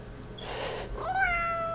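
A pet cat meows indoors, a short rising and falling call followed by a longer, clear tonal meow, close and fairly loud over a quiet room.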